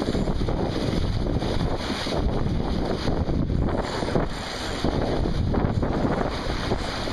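Wind rushing past a sailboat sailing on a reach through waves, a loud continuous roar that buffets the microphone, easing briefly before building again, with water wash underneath.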